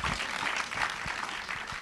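Dense, continuous applause from a live audience at an onstage interview, loud and steady throughout with no talk.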